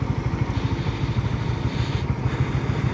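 A Suzuki 250cc SX motorcycle, not yet warmed up, idles with a steady, low, pulsing engine throb that stays close and even throughout.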